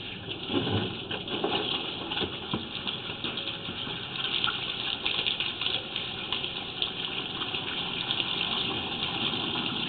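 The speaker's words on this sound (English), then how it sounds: "we've got some water running in the area drain behind us" Water runs steadily into an outdoor area drain, a constant gushing hiss with a low mechanical hum beneath it, continuous and even for the whole stretch.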